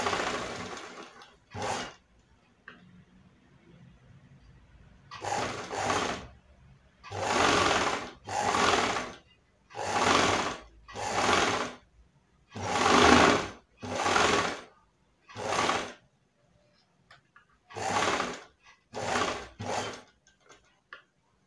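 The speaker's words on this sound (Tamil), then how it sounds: "இந்த பக்கம் தைச்சிட்டு அப்படியே இந்த பக்கம் டர்ன் பண்ணி தைச்சிட்டு வரேன்." A sewing machine stitches fabric in about a dozen loud, close bursts of rapid mechanical whirring, separated by short pauses, with no talking.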